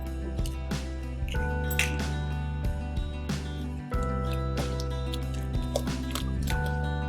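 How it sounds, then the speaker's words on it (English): A whisk or spoon clinks against a bowl while an egg is stirred into red velvet cake batter, an irregular series of light taps and scrapes over a steady background hum. "Put that in, give it a stir, give that bingo wing a little workout"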